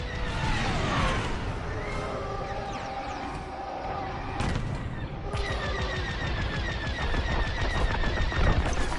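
Rapid laser blaster fire crackles in dogfight combat in Star Wars: Squadrons, dense volleys of zapping shots over a loud engine roar with sweeping whines, continuous and close.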